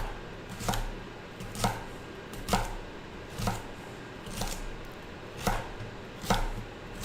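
A knife finely chopping vegetables on a board, steady evenly spaced thuds about once a second, close and clear with no talk.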